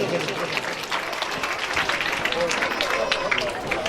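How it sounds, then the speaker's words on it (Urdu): Audience applause for children at a school annual function, continuous loud clapping from many people with crowd murmur underneath, sustained at an even level throughout. "زوردار تالیاں بچوں کے لیے."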